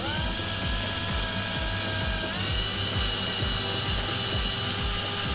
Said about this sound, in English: let's just drill another hole there.